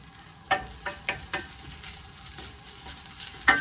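Onions caramelizing over high heat in a pan are stirred repeatedly, a soft sizzle broken by several distinct scraping strokes at an uneven rhythm, close and fairly quiet, with no talking.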